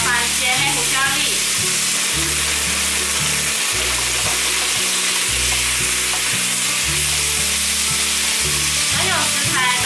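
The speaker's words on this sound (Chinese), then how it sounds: "翻炒，炒出食材的香气。" Ingredients, finished with black peppercorns, sizzle loudly in a hot pan during stir-frying, with a continuous dense crackle and repeated scraping stirs close by. Low background music plays underneath.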